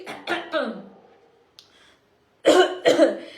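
Several throaty coughs in two bursts, a quick run of three, a pause, then two more harsh coughs, close and fairly loud.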